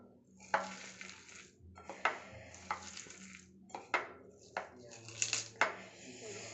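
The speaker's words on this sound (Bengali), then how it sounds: "পেঁয়াজটা আগে আমরা ভালো করে চটকায় নেব, একদম খুব ভালো করে পেঁয়াজটা মাখবো।" Chopped onion kneaded by hand with salt for egg patties, giving wet squelching and squishing bursts in an irregular rhythm, close and fairly loud, with occasional bowl clinks and no talking.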